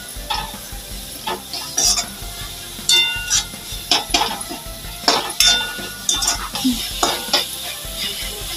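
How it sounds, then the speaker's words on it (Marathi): A ground paste of green chili, coriander, ginger and garlic is sautéed with onions in oil, soft sizzling under repeated sharp clinks and scrapes of a spatula against the pan at an uneven rhythm. "ते छान असं 1 ते 2 मिनिटं परतून घेऊया कांद्यासोबत"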